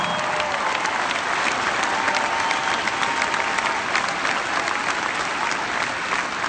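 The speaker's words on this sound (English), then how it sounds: "Give him applause, come on." A large rally crowd applauds a young man in Des Moines, Iowa, loud dense clapping and cheering that fills the hall steadily throughout.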